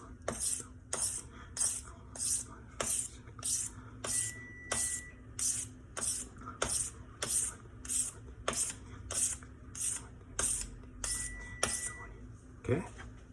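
A kitchen knife is drawn across a whetstone in steady, evenly spaced strokes, roughly eighteen scraping passes in a regular rhythm, close and fairly loud.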